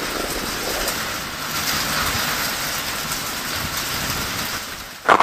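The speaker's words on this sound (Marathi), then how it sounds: "गेले 1 तासापासून जोरदार वादळी वाऱ्यासह अवकाळी पाऊस सुरू आहे" Heavy unseasonal rain with stormy wind in Junnar taluka, north Pune district: a dense, steady rushing hiss with a sharp louder gust or burst at the very end.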